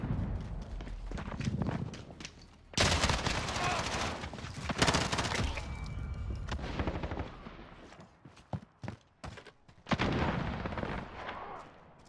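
Gunshots during a Call of Duty Modern Warfare multiplayer match: loud, sustained automatic bursts break into scattered sharp single shots and steps, then the heavy firing resumes.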